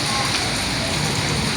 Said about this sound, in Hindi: ये बारिश हो रही है। ओह क्या बारिश है